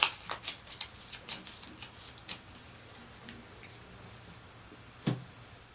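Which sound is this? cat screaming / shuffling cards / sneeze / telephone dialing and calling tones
shuffling cards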